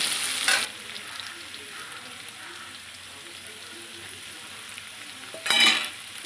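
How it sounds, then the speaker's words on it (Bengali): Radish pieces frying in hot oil in a pan for a shol fish and radish dish, with a continuous crackling sizzle and louder bursts of spattering near the start and again toward the end. "মুলোগুলো দিয়ে দিলাম তেলের ওপরে এবার"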